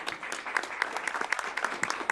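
Board of Regents meeting audience applauding a team, a steady patter of many hands clapping close by with sharp individual claps throughout, no voices over it.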